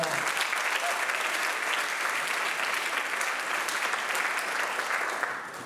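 A crowd at a school athletic awards night claps steadily and loudly for a relay team, the dense applause holding for several seconds before starting to thin at the end.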